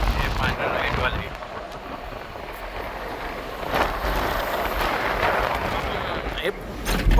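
Tempo van jolting over a broken, unfinished road stretch on a Konkan trip, with loud continuous rumbling and rattling broken by sharp thuds as it bumps; a voice talks over it.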